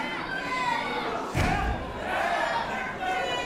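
Spectators at a live wrestling match roar and cheer in a sustained wash of crowd noise, broken by a heavy thud around the middle as a body hits the ring mat.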